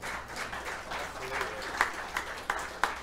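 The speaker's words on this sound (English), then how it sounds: "another round of applause for her" An audience at a live music venue breaks into applause, a moderate wash of clapping with a few sharper claps standing out, mixed with people talking.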